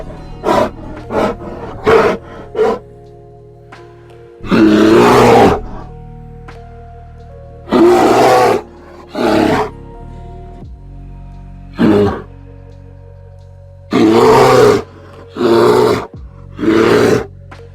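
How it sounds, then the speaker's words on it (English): A grizzly bear roars in a series of about a dozen deep, rough bursts of varying length, loud and close, separated by short pauses with no talk. "I can imagine that a grizzly bear's roar is creepy to just about every mammal, including humans."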